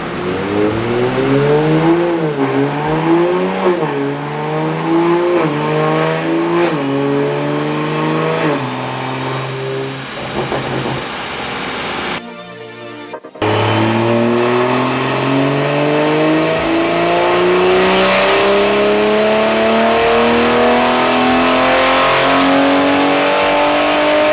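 A Toyota A90 Supra engine revs on a dyno in rising and falling sweeps, with a brief cutout midway, then a long steady climb in pitch, loud and close.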